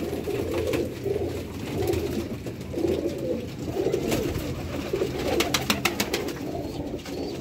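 A male Zeera pigeon coos in repeated soft, rolling phrases close by, a steady rhythmic murmur with light clicks and rustling near the end.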